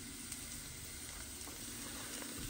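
Garlic sizzles in hot organic olive oil in a pan, a steady close frying crackle with no talk.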